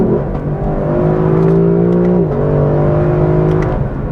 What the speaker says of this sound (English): it rips off shifts pretty easily, and then it listens to you when you want to slow down, downshift